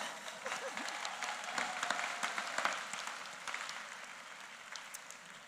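A convocation audience applauds graduates, with scattered claps rising into steady applause that fades over several seconds in a large hall.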